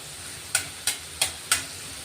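Chopped garlic sautéing in a hot pan, a steady low sizzle with four sharp stirring scrapes at regular intervals, close and fairly quiet, no talking.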